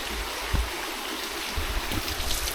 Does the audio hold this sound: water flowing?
yes